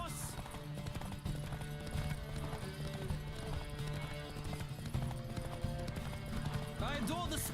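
Hoofbeats of a Zerikanian horse galloping in The Witcher 3 video game, a steady rapid clip-clop running beneath continuous talking and game music, with a brief whinny near the end.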